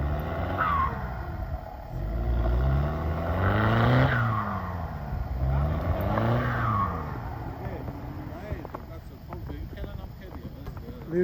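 A car engine labours over rough terrain, revving and surging in two strong swells before settling into a lower, bumpy rumble, with people talking over it.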